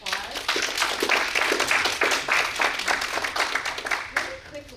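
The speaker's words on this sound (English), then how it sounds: "if we can give Ryan one more round of applause" A live entrepreneurship talk audience gives a round of applause for a cookie company guest speaker, a steady, dense patter of many hands clapping that holds throughout before easing slightly at the end.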